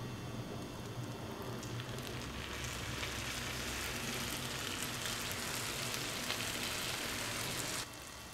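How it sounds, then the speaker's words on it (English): Sugar syrup poured over a hot chocolate baklava fresh from the oven sizzles in a dense, steady crackle like rain on a surface, close and continuous before it briefly drops off. "that's quite the reward to hear that sizzle"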